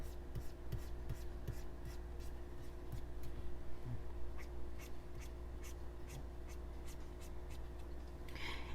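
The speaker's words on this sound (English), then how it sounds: "I'm going to draw in some eyebrows here" Soft, rhythmic scratching strokes of a coloring tool on paper while drawing eyebrows on a baby yeti picture, heard close over a low steady background hum.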